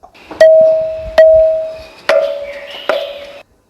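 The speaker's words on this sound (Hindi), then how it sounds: "अब यहाँ एक मंदिर की घंटी की आवाज है" Four separate strikes on a temple bell, each a clear metallic ding with a sustained ringing tone that decays before the next hit. The strikes are close and loud, with no voices.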